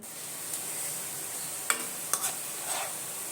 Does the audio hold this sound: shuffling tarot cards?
no